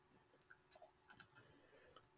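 A computer mouse gives a few quick, faint clicks while a line is drawn in a CAD sketch, with two sharper clicks close together in the middle and a quiet room around them.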